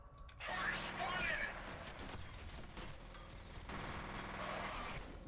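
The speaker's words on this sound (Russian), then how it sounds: "Блин, эта пушка, конечно, значительно слабее." Gunfire from a weapon in the shooter game F.E.A.R., a dense burst of rapid shots up front followed by sustained clattering combat noise and scattered impacts at moderate loudness.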